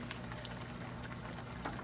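Buro, fermented rice with fish, simmers in a pot, giving a steady close bubbling hiss with faint soft pops throughout, no voices.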